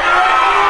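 A live audience at a Maltepe stand-up comedy show roars and cheers in a dense, loud, continuous burst of crowd noise with shouts blended in.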